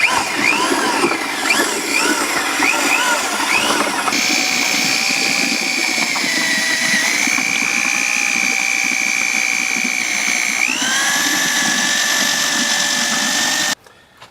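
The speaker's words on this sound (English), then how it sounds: "I've taken a drill and I mixed that up a bit" An electric drill mixing clay slurry whirs loudly and steadily, its whining pitch dipping and rising as it churns, then it cuts off abruptly at the end.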